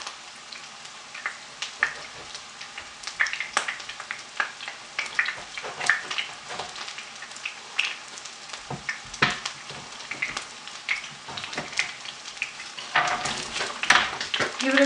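Round small brinjals stirred in a pan on the stove, with a soft continuous sizzle and scattered scraping, clicking spoon strokes at close range.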